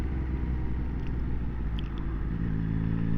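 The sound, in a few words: Yamaha XSR900 motorcycle riding and changing gear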